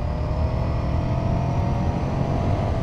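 Ducati Scrambler 800 motorcycle pulling hard out of a bend, a steady, loud engine drone with broadband wind rush that holds evenly throughout, no voices.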